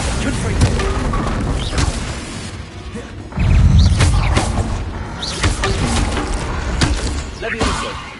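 Booming blasts of the Confringo spell go off in the video game Hogwarts Legacy, heavy thuds and crashing impacts with debris clatter amid other spell effects. The loudest burst lands partway through.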